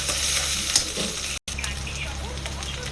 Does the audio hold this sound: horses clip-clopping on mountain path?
no